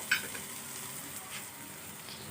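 Steady sizzling of ridge gourd frying with onion in a pan, close and moderately loud, with a brief scrape of stirring near the start and no talking.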